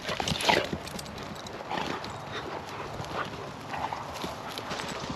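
Paws patter and scrabble quickly across the ground close by, a busy rhythmic scramble of running animals with outdoor noise around them.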